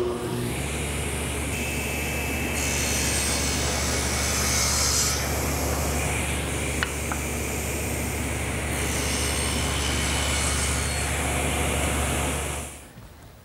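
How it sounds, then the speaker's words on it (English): A table saw blade cuts a groove in wood with repeated passes, a loud continuous whining roar with a steady low hum throughout, running alone until the motor winds down at the end. "I'll do that at the table saw just using the blade, making a couple passes, and moving the fence"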